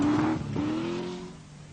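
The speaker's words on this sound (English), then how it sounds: "There are a trio of Triumph TR V8s out on the Scottish, headed by the determined Briton Tony Pond." A Triumph TR V8 rally car on a Scottish rally stage in 1980, its engine note rising briefly in pitch, then holding and fading slightly over under two seconds.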